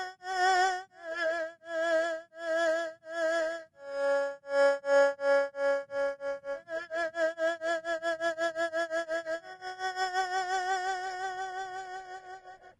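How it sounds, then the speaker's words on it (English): Lo-fi music run through a tremolo effect plugin with depth fully up, tempo-synced, so sustained tones pulse on and off in rapid regular chops that change speed across the passage. "And lastly, tremolo. This one's really cool for lo-fi stuff."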